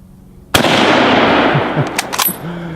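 A Mauser Kar98k bolt-action rifle in 8mm fires one loud, sharp shot outdoors at cinder blocks, followed by a long rolling echo and faint clatter.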